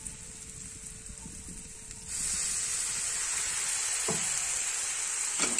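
Ground spices with a little water are sautéed in a pan for samosa filling, a soft sizzle that jumps to a louder, steady hiss partway through, with a couple of brief scraping stirs.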